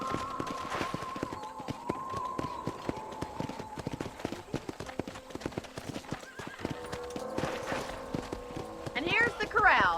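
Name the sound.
horse hooves while riding in the video game Red Dead Redemption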